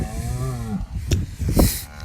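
Cows low loudly and close by during a fight between cows in a snowy calving-season pasture, with a long moo followed by a couple of shorter bellows and thuds.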